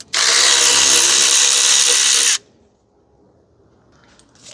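A power tool runs in one loud, continuous burst of about two seconds, loosening the battery hold-down nut on a 2005 Toyota Corolla 1.8, then cuts off to near silence.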